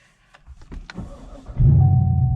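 A few clicks and rustles, then a 2019 Chevrolet Camaro SS engine cranks and roars to life, settling into a loud, steady idle nearby.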